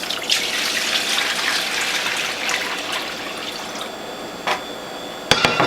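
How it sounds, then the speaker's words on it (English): Carrot juice pours steadily from one container into a larger collection bowl, a continuous close splashing trickle that thins toward the end, followed by a couple of sharp clinks. "So I'll pour this into this larger collection bowl."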